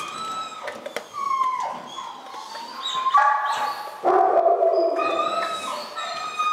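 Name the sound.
dog barking during training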